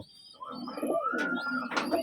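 Pigeons kept as fancy birds coo softly at close range, giving a low rolling call with a couple of brief higher chirps and no talking.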